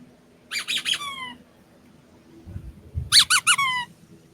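A squeaky ball toy squeezed in two quick bursts of three or four high, sharp squeaks each, close and loud over a low indoor hum, with a soft thump between them.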